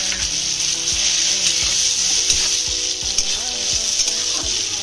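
Grated potatoes fry with salt, turmeric and other spices in a pan, a loud, continuous sizzle broken by regular spatula scrapes and stirring thuds.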